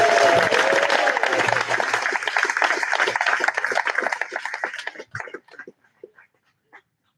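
An audience at a Greeley naturalization ceremony applauds 28 new citizens: dense, loud crowd clapping for about five seconds, then thinning to a few scattered individual claps that trail off into quiet.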